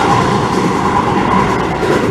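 Inside a Keio 9000 series train leaving underground track near Chofu Station for the surface, a loud steady rumble of wheels and motor fills the car with constant roaring noise.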